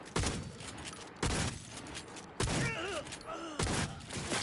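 Rapid bursts of gunfire from the Cyberpunk 2077 video game come in four loud, sharp volleys spaced about a second apart, with whooshing, warbling effects between them and no clear talk.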